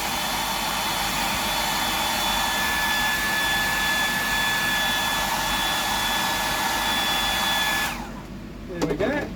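A hair dryer blows steadily and loudly on a custom fishing lure, a continuous whining roar with a faint high tone, then cuts off abruptly near the end, leaving a few small clicks.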